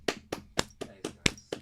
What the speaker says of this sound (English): Let's all give him a fucking round of applause